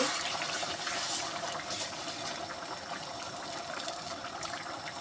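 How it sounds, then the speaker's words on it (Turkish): Hot, boiled water poured over stuffed peppers in a pot: a continuous close gush and splash of liquid that tapers slightly, with no speech. "Şöyle üzerine çıkacak kadar su koyuyoruz."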